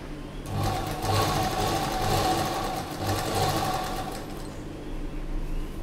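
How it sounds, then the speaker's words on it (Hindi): A sewing machine stitches along the edge of a slip (shameez), its motor whirring in a steady, close, continuous run that eases off slightly near the end. "यहाँ एकदम किनारे सिलाई लगाएंगे"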